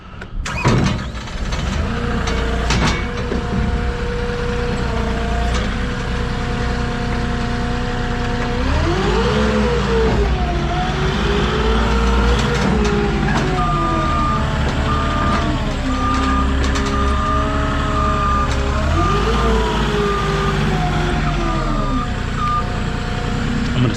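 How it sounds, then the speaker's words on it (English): A forklift unloading heavy 20-foot pressure-treated lumber idles and revs loudly while its reversing alarm beeps in a steady, repeating pattern over the engine drone, with the pitch of the engine rising and falling. "we're gonna get up on the forklift"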